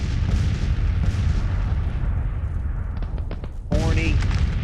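Artillery fire in the Grand Tactician Civil War strategy game, Confederate 1863 campaign: dense rumbling booms and cracks rolling continuously, with a sharper burst near the end, loud and close.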